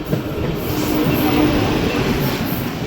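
Kamakhya Express passenger train running from Puri toward Kamakhya, a loud, steady rumble of wheels on rails with a faint hiss above it, heard close and continuous with no talking.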